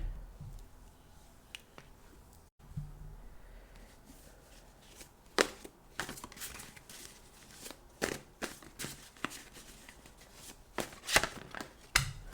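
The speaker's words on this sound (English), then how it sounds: "I'll pull some cards." A deck of tarot cards is shuffled and drawn during a reading, giving soft papery riffles and a run of sharp card snaps and flicks, close and fairly quiet, with no talking.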